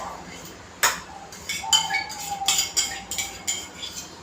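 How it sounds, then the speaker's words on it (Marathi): Utensils clink and ping as mango pulp is moved into a mixer jar in a home kitchen, several sharp metallic taps spread irregularly over a quiet background. "मी आता हे मिक्सरच्या भांड्यात काढून घेते."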